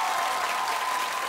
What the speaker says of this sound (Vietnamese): Nhờ tiếng vỗ tay này cứu quá chứ.